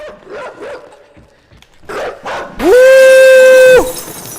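A few short yips followed by a loud, sustained dog howl from the video game Inside, sounding electronic and game-like, with quieter background noise between.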